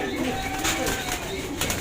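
Pigeons coo in a soft, repeated, throaty murmur, close by, under a steady background hiss, with no clear talk.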